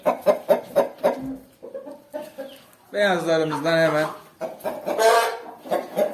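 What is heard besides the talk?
chickens and roosters clucking in a new coop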